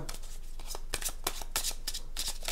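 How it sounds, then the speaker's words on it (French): A deck of 32 playing cards being shuffled and cut in quick riffling bursts of crisp papery flutters, close and fairly loud, with no voices over it. "on va aller voir les jeux de 32, on va faire une coupe"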